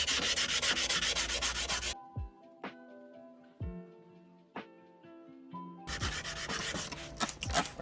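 Sandpaper scrubs clear coat off a 2012 GMC Denali headlight in rapid, harsh back-and-forth strokes, breaking off for a few seconds of quiet scattered taps and handling before the close, loud scraping resumes.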